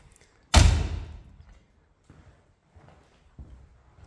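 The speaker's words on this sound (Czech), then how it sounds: "zavřeme si dveře" The cab door of a ZETOR 4011 tractor slams shut with one loud, close thud, followed by a few faint knocks and rattles.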